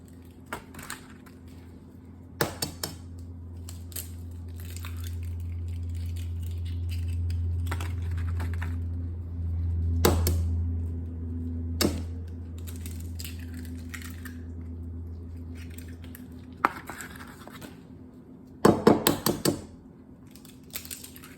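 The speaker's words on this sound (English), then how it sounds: "the trick to getting these eggs open is by cracking on the side like this" Eggs crack against the side of a bowl as sharp, isolated taps spread over a quiet kitchen, with a low hum underneath and a quick cluster of knocks near the end.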